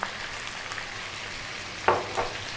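Onion sizzles in a stew pot over browned chicken, a quiet steady fry broken by a couple of brief louder stirring scrapes near the end.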